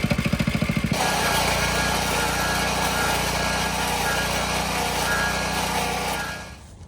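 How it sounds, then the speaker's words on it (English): A stump grinder chipping away at a tree stump roars steadily and loudly, a broad engine drone with a faint pulsing start, holding for several seconds before winding down at the end. "So that's a stump grinder, and that's how you use it. We're gonna just keep chipping away at it."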